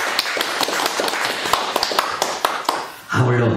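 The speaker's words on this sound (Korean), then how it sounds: "큰 박수로 하나님께 영광의 박수 올려드리겠습니다" A church congregation claps in praise to God, quick sharp claps in a fairly steady rhythm, fading as a voice begins at the end.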